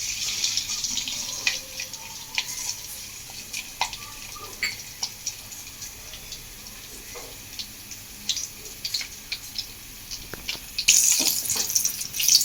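Crushed garlic frying in hot oil in a pan while making tomato roti pachadi, a steady soft sizzling hiss with faint crackles throughout, growing louder near the end.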